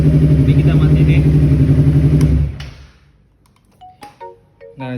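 A Honda CBR250RR motorcycle engine revs loudly and close for about two and a half seconds, with a dense, buzzing tone, then cuts off abruptly. A few faint clicks and brief higher tones follow in near silence.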